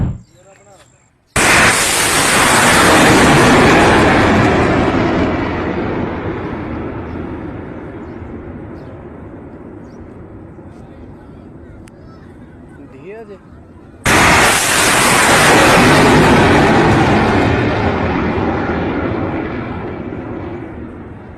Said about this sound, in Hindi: आवाम की आड़ लेकर आवाम के बीच से वो मिसाइल दाग रहा है